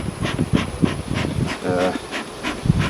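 Honeybees buzz around an open hive during a late June inspection, a close, steady droning with pulsing swells as individual bees pass near, with faint voices in the background.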